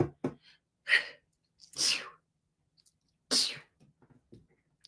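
A few sharp sneezes burst out one after another with quiet breathy sounds and short pauses between, close up.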